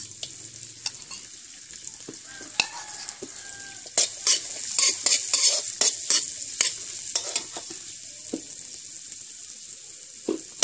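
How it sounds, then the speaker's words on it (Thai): Sliced shallots and chili fry in a pan for a northeastern Thai basil stir-fry, a steady close sizzle with a spatula scraping and stirring in bursts that grow louder midway, with no talking. "เจียวหอมแดงเนาะจ้าหอมแดงซอยกับพริกให้มันมีความหอมความหวานของหอมก็ออกมาเนาะจ้า"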